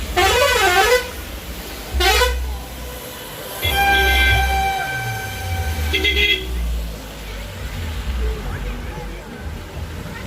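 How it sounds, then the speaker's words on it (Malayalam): A bus horn blares in Munnar as a loud, melodic musical horn rising and falling in several long bursts, with engine rumble, traffic noise and some talk around it. "അതുമാത്രമല്ല ഏതൊരു ബസ്സിന് മുഴക്കവും കൂടെ കേൾക്കുന്നുണ്ട്."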